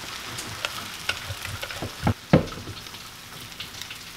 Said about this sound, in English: It's that lovely sound you like to hear when you put cornbread in.